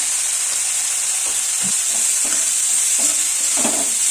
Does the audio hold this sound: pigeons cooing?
no